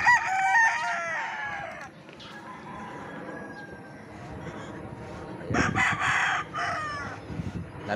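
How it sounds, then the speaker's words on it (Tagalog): A rooster crows loudly near the start, with hens clucking around it and a burst of louder clucking later, under steady outdoor background noise. "Manok dito eh, ano, magagaling."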